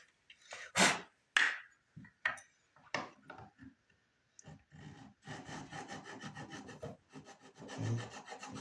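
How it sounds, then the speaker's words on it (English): A crosscut file rasps across the broken acrylic headstock of a B.C. Rich guitar in a workshop: a few separate scraping strokes at first, then a steadier run of close, gritty filing with brief gaps, no talk. "Crosscut file."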